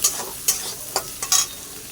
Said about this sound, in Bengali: দিয়ে দিয়েছি একটা ডিম। ফ্রাই করে নেবো।